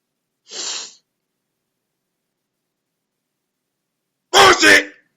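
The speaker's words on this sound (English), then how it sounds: "I'm sorry, I sneezed." A person gives a short sharp sneeze-like burst, then after a pause a louder doubled explosive sneeze, both close and set against silence.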